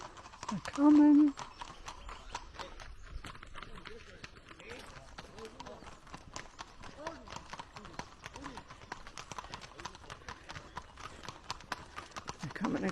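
Horses' hooves clip-clop on a rural road on the Camino between San Juan de Ortega and Burgos as riders pass, a continuous clatter of many hoofbeats close by, with people talking throughout.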